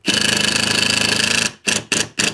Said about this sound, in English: put the screw in.